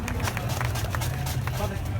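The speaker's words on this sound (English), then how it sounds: "It's a loud crowd over here." A loud rally crowd at a May Day gathering in Trafalgar Square, London, keeps up a steady, dense roar with scattered clapping and shouts throughout, close and continuous.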